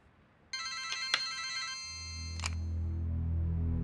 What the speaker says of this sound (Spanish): Mamá, tu teléfono.